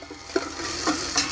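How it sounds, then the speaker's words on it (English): Garlic paste and pepper flakes sizzling in butter in a pan for tomato soup, a steady close fry hiss with a few stirring scrapes, no talk. "now we're going to add our garlic, and we are blooming our pepper flake and our garlic paste"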